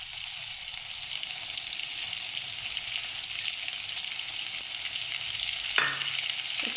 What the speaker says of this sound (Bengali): এর সঙ্গে পেঁয়াজগুলো ভালো করে ভেজে নেব।